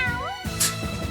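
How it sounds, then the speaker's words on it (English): A cartoonish cat meows once from the Trails in the Sky the 3rd video game, a short rising mew followed by a soft breathy tail, close and clear with no talk. "I forgot this does actual cat noise"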